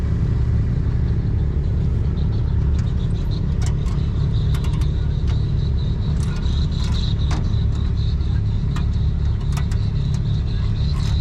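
An antique 1947-styled Oliver tractor engine runs steadily up close, a continuous low mechanical rumble with no breaks and no talking over it.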